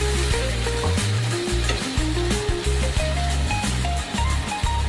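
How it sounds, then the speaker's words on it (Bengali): Spice paste for a spicy pangas fish curry sizzles loudly in a pan with a splash of water, with steady frying hiss and repeated close scraping strokes of a stirring spoon. "সামান্য জল দিয়ে দিলাম দিয়ে মশলাটা ভালো করে কষে নেবো"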